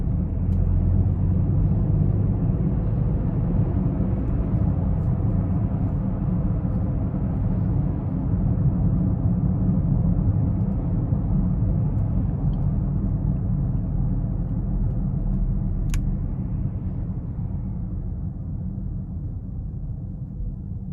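Cabin of a 2021 BMW X5 xDrive40i all-wheel-drive SUV on the move: a steady, close, broadband low rumble of road and engine noise, constant throughout with no voices.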